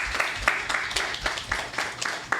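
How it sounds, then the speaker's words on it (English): A small audience claps together for a couple of seconds, a steady patter of hands at moderate distance. "Can we give a round of applause for our panelists,"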